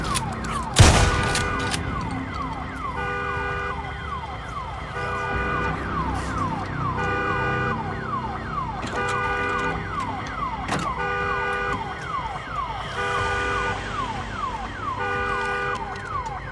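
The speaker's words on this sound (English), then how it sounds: "Damn alarm." An alarm siren in the Days Gone video game wails continuously in rising and falling sweeps, loud and close, with a heavy thump near the start and occasional clanks over the steady cycling tone.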